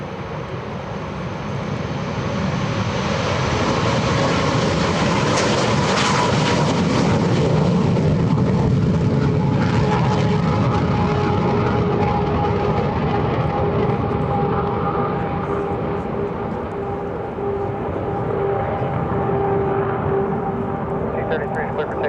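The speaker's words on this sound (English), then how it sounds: "The aircraft as they're taking off. They're all mid-17s, but they are different." Mid-17 warbird aircraft take off from runway 36 at EAA AirVenture, a loud sustained engine roar with a steady droning tone that swells and holds throughout, with people talking over it.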